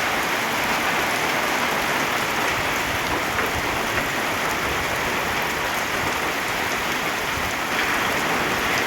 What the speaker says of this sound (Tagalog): Biglang buhos yung malakas na ulan.